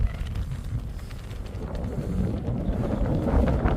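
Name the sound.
wind on a hill summit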